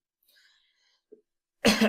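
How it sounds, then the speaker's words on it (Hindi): A single loud, harsh cough bursts out near the end, close to the mic, after faint scattered background noise. "सॉरी थोड़ा खांसी है ना"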